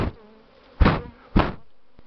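Honeybees on a strong spring cleansing flight around the hives, with two loud close buzzing passes that swell and fade against a faint background hum.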